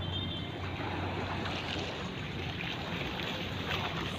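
Waves break with growing strength at the water's edge where litter floats near the shore. The surf makes a continuous broadband wash, loud and close, with a few wind-buffeted surges.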